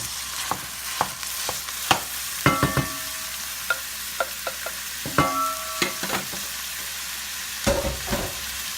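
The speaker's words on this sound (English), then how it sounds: "I'm browning my meat, and I'm breaking it up as I go" Ground meat browns with red onion in an Instant Pot, a steady sizzle broken by sharp scraping and knocking as a utensil breaks it up at irregular intervals.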